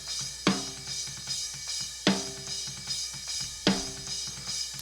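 A snare drum with a 200 Hz EQ boost plays inside a looping drum pattern, three heavy thick-bodied hits spaced evenly among lighter beats, close and steady with no talking.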